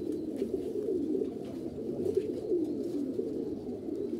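A Beji breed pigeon cooing close by, a continuous low throaty rolling coo with soft pulses, fairly quiet and heard alone.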